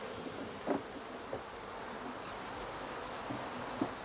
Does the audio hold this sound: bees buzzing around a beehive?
yes